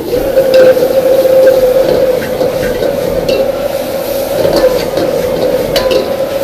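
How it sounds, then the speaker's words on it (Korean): Jeyuk pork seasoned with gochujang, sugar and pepper stir-fried in a wok over a powerful Chinese-style burner, giving a loud, steady sizzle with repeated scraping and stirring throughout. "이 밑에가 눌러 붙는데 이대로 그냥 계속 오래 볶아줘야 맛있어요"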